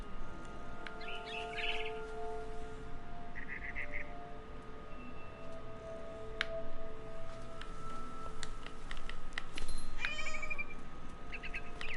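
A cat meowing in the video game What Remains of Edith Finch: a few faint, scattered meows and light bird chirps over a quiet, steady ambient background.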